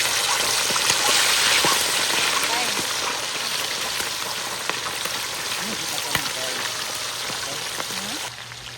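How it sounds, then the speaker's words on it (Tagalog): Salt-seasoned chicken fries in hot oil with a dense, steady crackling sizzle, loud and close, easing slightly toward the end. "ngayon, magprito na tayo ng chicken"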